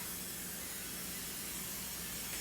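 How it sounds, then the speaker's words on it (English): Costco brand cooking spray hisses in one continuous, faint burst, close by, with nothing else sounding. "let's spray it with some Pam. This is not Pam, this is Costco brand."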